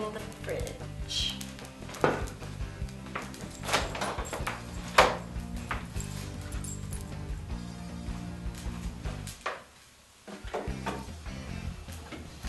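A refrigerator door is pulled open and thumped shut, with soft kitchen clatter and a low hum between the knocks.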